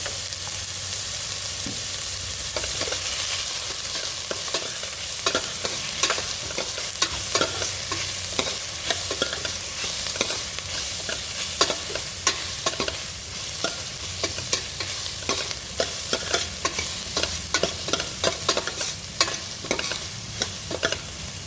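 Frying and stirring in a little oil in a pan while cooking Andhra-style pappu sambar: a steady close sizzle with frequent scraping, clattering spoon strokes, no voices.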